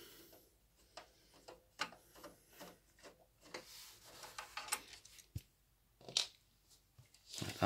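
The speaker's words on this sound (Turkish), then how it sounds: "Şimdi söküyoruz ses kartına. Yıldız tornavida yardımıyla." A Phillips screwdriver works loose the screws holding an Asus Strix sound card, giving faint, close scraping and ticking with soft metallic rubs and short clicks spread across the stretch. There is no talk.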